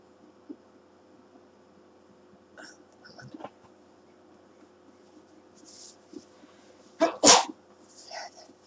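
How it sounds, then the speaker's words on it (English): A single loud sneeze bursts out near the end after quiet breathing and faint rustles, followed by a brief softer exhale. "I think I'm going to sneeze."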